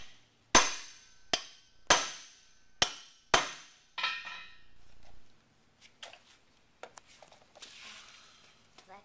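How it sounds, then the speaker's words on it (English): A hammer strikes a chisel against metal five times in a slow, uneven rhythm, each blow a sharp ringing clang close by, followed by softer scattered metallic taps and rattles. "I need to hold the chisel. I'm going to poke a hole in it."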